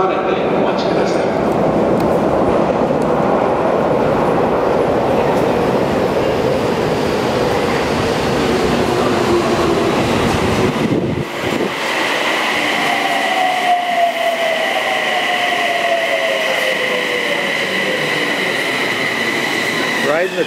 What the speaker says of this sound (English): Riding the Tokyo subway.